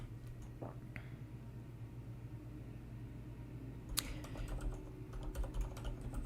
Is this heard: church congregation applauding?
no